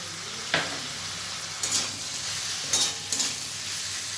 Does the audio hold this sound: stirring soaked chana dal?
yes